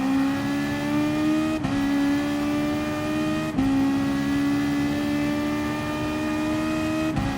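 Several GT race cars in Gran Turismo Sport roar continuously at high revs, with steady engine tones, sharp dips as gears shift every couple of seconds, loud and close with no talking.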